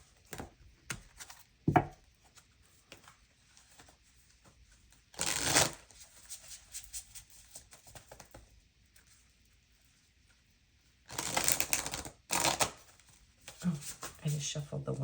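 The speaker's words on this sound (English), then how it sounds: "I just shuffled the Oneness Tarot card into there." Tarot cards being shuffled in the hands, a few short bursts of riffling and patting separated by quieter handling, with speech in between.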